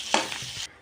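Stirring tomato and coriander into frying masala in a pan, a brief scraping stir with a soft sizzle underneath, close and moderately loud, ending abruptly.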